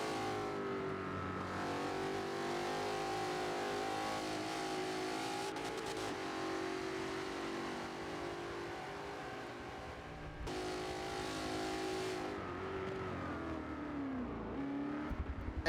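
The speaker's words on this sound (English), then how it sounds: "Max struggling with the heavy Audi with its all-wheel drive understeer" Race car engines in a sim racing game of an '03 GT Speed World Challenge race, including a heavy all-wheel-drive Audi, steady loud revving and gear changes with cars droning past, no talk.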